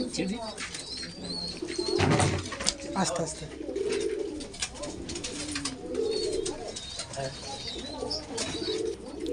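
Soft cooing from Lal Dom pigeons mixes with occasional wing flaps and chirps from nearby birds, heard beneath steady conversation between men.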